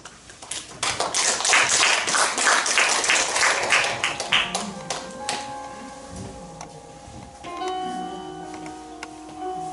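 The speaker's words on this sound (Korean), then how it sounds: "뜨거운 박수로 환영해 주시기 바랍니다." An audience claps to welcome a poetry reciter at a recitation event, with dense, fairly close applause in the first few seconds thinning into scattered claps, then fading into a quiet room where soft music begins.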